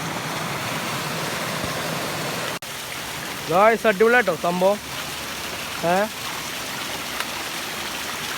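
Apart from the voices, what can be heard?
water flowing at the top of a waterfall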